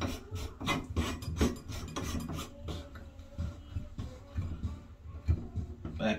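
A bathtub faucet part is screwed back into place by hand, giving repeated close rasping, rubbing twists in an uneven rhythm with small clicks between strokes.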